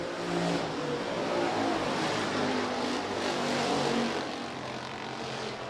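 Hobby stock race cars at a dirt speedway during a heat race: a continuous roar of engines at full throttle that swells and fades slightly as the field passes at a moderate distance.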